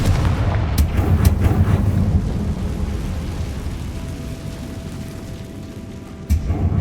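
A fire spell explosion from the video game Hogwarts Legacy booms out loudly up close, followed by a couple of sharp cracks and a long rumbling decay, with another thump near the end.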